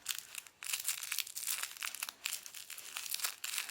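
Crinkly crackling from the feet of a Lamaze Flip Flap Dragon baby toy, a steady close-up rustle of squeezed crinkle material with brief pauses, alone and fairly quiet.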